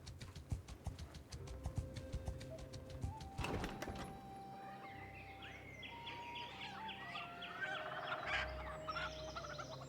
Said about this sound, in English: Okay, I do hear chickens here,